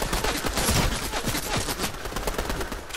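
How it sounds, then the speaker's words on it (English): Dense, continuous video game gunfire rattles as a player shoots down a tree, a rapid stream of close, loud shots with no pauses. "I'm gonna shoot the tree down"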